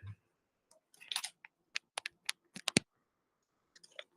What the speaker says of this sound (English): I can hear typing.